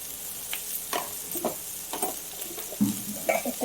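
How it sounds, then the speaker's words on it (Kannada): Pumpkin frying in a pan with chilli powder, turmeric and salt, a soft steady sizzle under a series of close stirring scrapes and spatula taps, with no voices. "ಸ್ವಲ್ಪ ಚೆನ್ನಾಗಿ ಫ್ರೈ ಮಾಡಿ."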